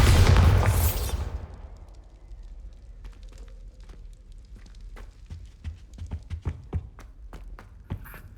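A Bombarda blast spell from Hogwarts Legacy goes off with a loud, close burst and rumbling boom lasting about a second, then fades into scattered crackles, taps and footsteps.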